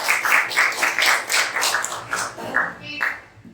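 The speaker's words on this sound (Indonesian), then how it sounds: "Oke, tepuk tangan buat Henry." A classroom claps for Henry in a steady, rhythmic run of hand claps, about a dozen beats in under four seconds, bright and close, with a few taps near the end.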